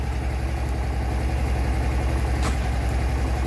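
A Honda Varadero XL125 V-twin motorcycle engine running in first gear with the rear wheel raised off the floor, a steady, even, close-up drone without gaps.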